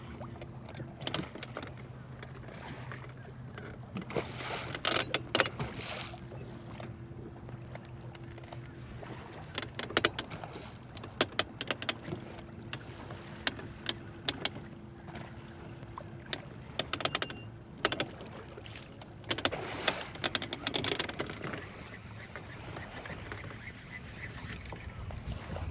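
A bass fishing boat cruises slowly across the water, its low steady motor hum running throughout, broken by intermittent knocks, clicks and water splashes, with faint speech at times.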